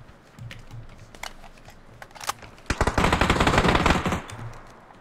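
Rapid automatic gunfire in the battle game PUBG, a dense sustained burst of shots after a few scattered single cracks, loud and close.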